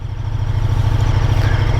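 A KTM 1290 Super Duke R Evo motorcycle idles nearby, a steady, loud, low rumble with an even throb and no talking.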